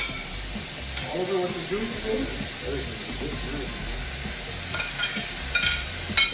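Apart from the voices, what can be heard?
steak sizzling with fries in a pan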